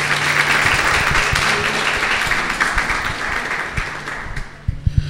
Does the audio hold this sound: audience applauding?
yes